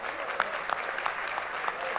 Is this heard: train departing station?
no